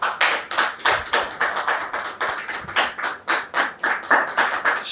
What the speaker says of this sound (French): Monsieur Bierou, que je voudrais vous demander de recevoir sous vos applaudissements